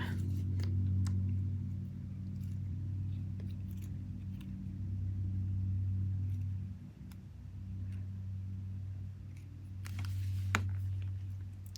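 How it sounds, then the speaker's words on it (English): A lawnmower running outside gives a low, continuous engine drone that swells and fades as it moves, with faint clicks and taps close by. "never dreamed there would be the lawnmower happening."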